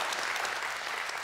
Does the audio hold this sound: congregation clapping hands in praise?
yes